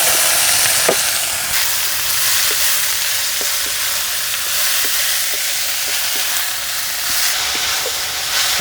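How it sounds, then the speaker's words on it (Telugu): Chopped onions hit hot oil with mustard and coriander seeds for onion kachori, giving a loud, constant hiss of frying. Faint clicks and taps of stirring sound underneath. "వెంటనే కోసి పెట్టుకున్న ఉల్లిపాయలు మొత్తం వేసేసుకుందాం."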